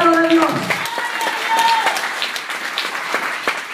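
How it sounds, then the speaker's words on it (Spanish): A church congregation applauds during a sermon, a fairly loud, continuous patter of clapping that follows a sung or spoken voice at the start, with talk still audible over the clapping. "Dale ese aplauso, Cordero de Dios."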